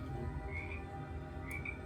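A one-eyed creature frog croaks in the Book of Boba Fett series, with low, repeated throaty croaks under a quiet background hum.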